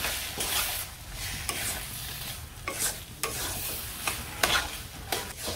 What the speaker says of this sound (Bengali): সবজির সাথে ভালো করে আদা বাটাটা মিশিয়ে নিই